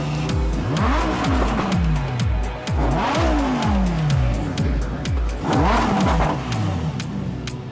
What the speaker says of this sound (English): He starts the V10 engine, and after idling it for a bit,